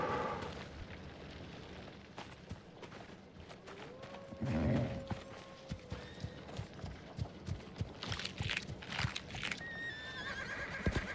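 A horse in the game Icarus whinnies once in a long rising call, while rapid clip-clopping hooves thud repeatedly nearby over low background rumble.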